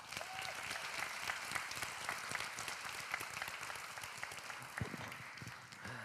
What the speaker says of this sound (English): Let's show our appreciation with a round of applause and the respect they deserve.